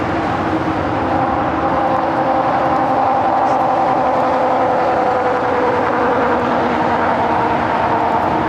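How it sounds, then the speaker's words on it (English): A Japan Airlines Boeing Dreamliner, arrived from Tokyo, taxis at LAX toward the Tom Bradley terminal, giving a steady, loud jet engine roar and rumble that holds throughout. "Our Japan Airlines, that Dreamliner, heading to Tom Bradley."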